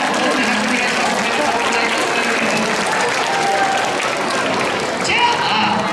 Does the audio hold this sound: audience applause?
yes